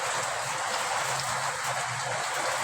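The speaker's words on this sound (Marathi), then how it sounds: "आता बघू शकता इथं बाहेर भरपूर पाऊस पडत आहे एकदम जोरात" Heavy rain pours steadily, a dense continuous hiss of water drumming on surfaces, with no voices.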